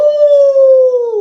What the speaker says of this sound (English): He could hear wolves howling in the dark forest.